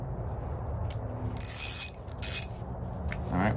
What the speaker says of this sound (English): Here's a 1/2-inch Eastco ratchet and it works.